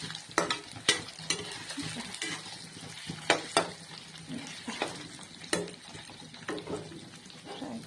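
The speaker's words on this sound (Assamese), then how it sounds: "এতিয়া নিমখ নিদি ফ্ৰাই কৰি ল'ম।" Boiled eggs fry in a pan without salt, a steady sizzle punctuated by several sharp scraping stirs and clinks of a utensil against the pan, close and fairly loud.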